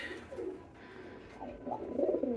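Pigeons bought at the Dewanhat pigeon market coo softly and intermittently, with a few low warbling calls swelling toward the end over faint background noise.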